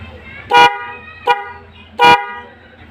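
Three short, loud motorcycle horn toots from two horns on one button, the middle one briefest, over a low rumbling engine idle nearby.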